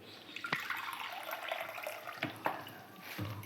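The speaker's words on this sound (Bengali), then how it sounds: "দিয়ে দেবো আর 1 বাটি জল।" Water from a bowl is poured into a cooking pot for a vegetarian doi potol (pointed gourd in yogurt) curry, giving a steady close splash and trickle with a few sharper drips and knocks.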